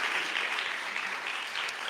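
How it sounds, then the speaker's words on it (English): Brief burst of steady clapping from a theatre-hall audience at a startup pitch event, continuous and unbroken, with no voices. "Big applause."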